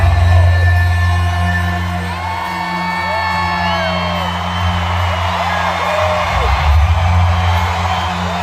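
A huge crowd at a Trump rally cheers and whoops loudly, with rising shouted calls and bellows over a continuous dense roar that swells again near the end.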